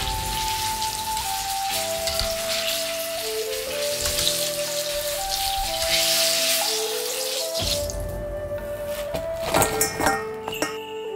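Eggplants in batter deep-frying over medium heat, with a dense close crackle and hiss of oil that carries on under a sustained tonal melody and no voice.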